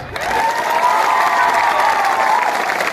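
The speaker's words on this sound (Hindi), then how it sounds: "हंसो के लिए भी ताली मारो" A crowd at a party gathering claps steadily and loudly, with some cheering voices blended into the continuous applause for a few seconds.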